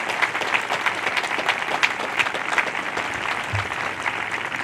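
Steady, even applause from an audience honours the color guard at a Nuclear Power School graduation, a dense patter of many hands clapping continuously at moderate loudness with no speech over it.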